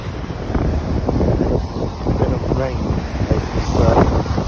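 Strong wind buffeting the microphone over stormy sea waves at Porthleven harbour in Cornwall, a constant roaring rush with surging swells and no clear breaks.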